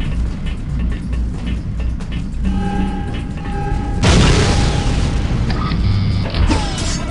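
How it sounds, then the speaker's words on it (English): An explosion in Aliens vs Predator 2 lands as a sudden loud boom partway through, set against dense game noise with mechanical tones and clanks before and after. "Why did I explode?"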